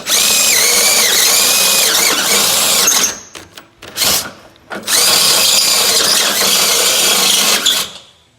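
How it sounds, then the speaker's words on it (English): A step drill bit (unibit) bores a large hole for a Camaro ZL1 tow hook install in two loud, sustained runs, with a whining, squealing bite into the metal, a short stuttering pause between them, and no talk. "step drill or a unibit like this to drill the big hole, which is on the right"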